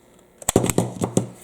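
The bolt of a CZ Scorpion Evo 3 pistol-caliber firearm, fitted with a Magpul PMAG EV9 magazine, slamming forward and locking on a tabletop: a close, sharp cluster of metallic clacks and rattles over about a second.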